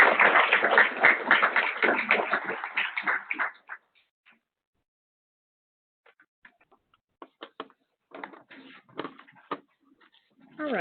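An audience at a reservoir water quality summit claps for a panel: a few seconds of dense, full applause that stops abruptly, followed by scattered isolated claps and small knocks in a quiet room.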